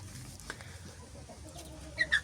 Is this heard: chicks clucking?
yes